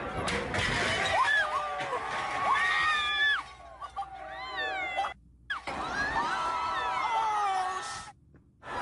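A street crowd in Philadelphia shouts and screams as a hotel awning collapses under the people standing on it, with excited yells rising and falling in bursts and short gaps between them.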